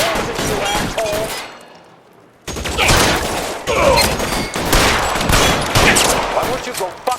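Rapid bursts of loud gunfire from an L.A. Noire shootout, firing in dense volleys with a brief lull before resuming heavily.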